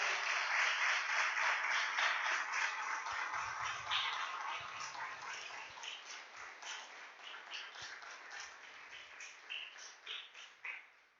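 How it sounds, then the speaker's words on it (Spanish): A church congregation applauds during a sermon, a dense, steady clapping wash at modest level that gradually thins and fades, with a few scattered individual claps near the end. "Dale un aplauso a la presencia de Dios."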